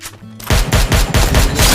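Rapid automatic gunfire in Free Fire, a loud close burst of about eight evenly spaced shots that starts abruptly after a short quiet moment.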